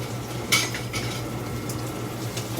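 Onions and potatoes drop into a cooking pot with one short clatter near the start. A soft, steady low hum and faint scraping follow.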